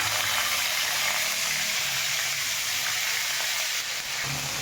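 Fennel, cinnamon, cloves and ginger garlic paste frying in oil for a peas kurma, a loud, dense, steady sizzle close up with no talk.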